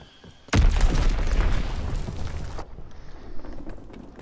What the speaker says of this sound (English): Bomb mission underway